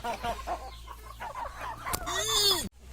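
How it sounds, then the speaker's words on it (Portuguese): Roosters scuffle in a cockfight, clucking and squawking close by with quick agitated calls and a sharp flurry near the end. "Epa, rinha de galo."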